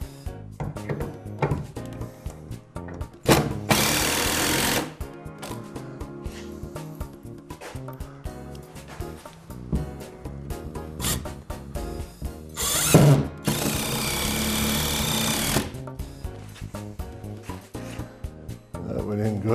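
A power drill drives screws into a hot dog cart stand in several loud, close whirring bursts with ratcheting clicks between them, mixed with talk.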